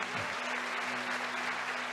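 Church congregation clapping to glorify the Lord during a sermon, a brief, moderately faint burst of applause with a steady low hum underneath.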